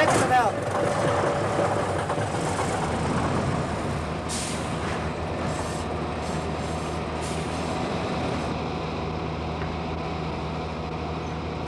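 A Büssing 8000 truck starts to drive off during a driver's test, with a hiss of air brakes and a low, steady engine rumble that continues under brief bursts of shouting and talk.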